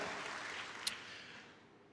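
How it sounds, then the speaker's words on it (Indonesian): Church congregation applauding at a Sunday worship service, a soft, fairly distant wash of clapping that holds steady, then slowly thins toward the end, with one brief sharp click partway through. "Tepuk tangan dulu untuk gereja Tuhan."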